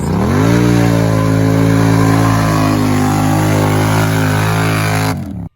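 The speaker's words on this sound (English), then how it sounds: "We have the RJWC dual exhaust system in place. Sweet looking exhaust, sweet sounding exhaust." ATV engine with an RJWC dual exhaust held at a loud, steady rev close by, a deep throaty drone that settles slightly and then cuts off abruptly.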